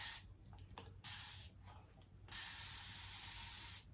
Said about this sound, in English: I have this awesome spray mister.